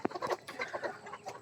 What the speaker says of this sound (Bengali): এই আমার মুরগিগুলো সমস্যা করে, সারাদিন ঠুকরি করে মুরগিকে